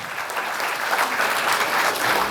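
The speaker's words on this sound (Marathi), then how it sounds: "तर जोरदार टाळ्या तुमच्याकडे झाल्या पाहिजे का?" Loud, dense applause from a college audience at a road safety awareness event, sustained and even throughout, filling the hall without pause.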